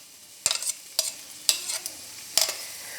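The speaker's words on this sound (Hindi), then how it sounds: "ऑयल गर्म हो चुका है तो अब इसके अंदर हम डाल देंगे प्याज" Chopped onion hits hot oil and is stirred in a pan, giving a steady sizzle broken by four sharp scraping stirs of the spoon, close and clear with no talk.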